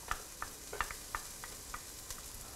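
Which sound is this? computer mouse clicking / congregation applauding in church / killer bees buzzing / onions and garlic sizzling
onions and garlic sizzling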